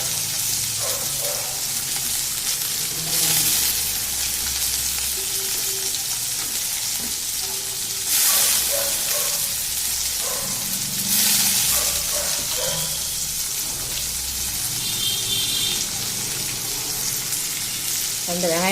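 Two chopped onions, with green chillies, frying in a hot pan give a steady, close, continuous sizzle with occasional stirring scrapes and faint background sounds.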